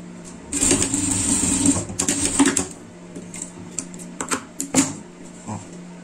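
A sewing machine runs in bursts while stitching a seam on a fabric pet project, with a long rattling run followed by shorter stitching spurts and scattered clicks as it slows to a stop.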